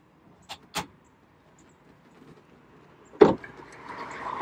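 A cabinet door aboard a Cobia 277 boat opens with two quick clicks of the latch, then a louder clack a few seconds later. A soft rising rush of noise follows close by, with no voices.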